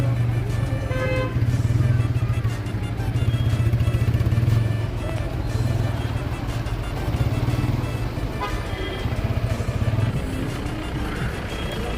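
Dense road traffic of cars and motorcycles in a hazy hill-town jam, a steady close rumble of idling and creeping engines with occasional horn toots throughout.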